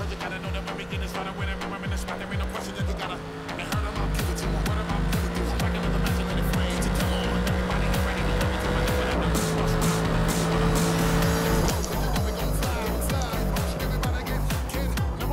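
A racing engine revs and shifts gears with sharp bursts of tire noise as a race car skids in a Forza racing game at the Hockenheim circuit, a continuous game-like car roar throughout.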